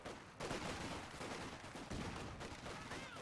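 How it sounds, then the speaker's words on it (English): Rifle fire from a British infantry section of five rifles in Company of Heroes 2, dense overlapping crackling shots in a continuous battle din, faint and distant. "So all five rifles are being fired"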